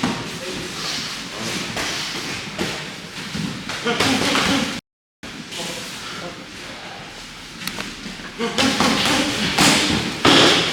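Knee strikes thud repeatedly on pads during MMA training in a gym, a steady series of dull impacts heard up close while a coach talks over them.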